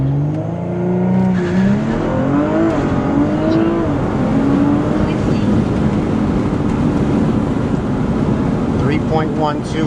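A 600 hp Audi RS5 coupe launching hard with its tyres spinning, the engine note rising in loud sweeping pitch climbs under steady road and tyre roar, with a voice talking over it.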